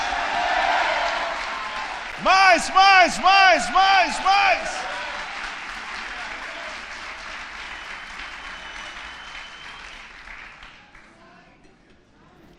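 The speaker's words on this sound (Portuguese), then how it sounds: "Se você recebe essa palavra, dê uma salva de palmas ao Senhor." Congregation applause fills a church conference hall, a broad wash of clapping that slowly fades over several seconds while a loud voice calls out briefly near the start.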